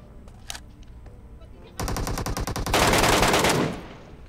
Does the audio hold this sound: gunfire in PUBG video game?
yes